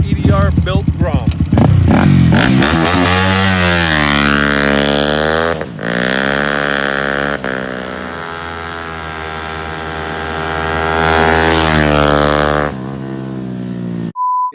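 A 2018 Honda Grom motorcycle with an EDR Performance build revs loud and close, its engine pitch sweeping up and down through several throttle blips before settling into a sustained drone that then cuts off.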